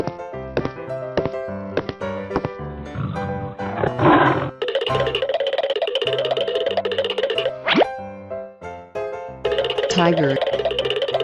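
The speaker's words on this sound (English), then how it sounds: "Tiger." Amid plops, boings and playful musical tones in a cartoon animal-sound sequence, a tiger gives a loud roar. A few shorter growling bursts follow later.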